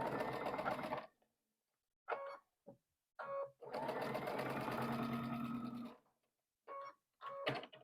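Sewing machine stitching the final seam of a quilted Dresden block in bursts, a long steady run in the middle flanked by short starts and stops, close and fairly quiet with silent gaps between.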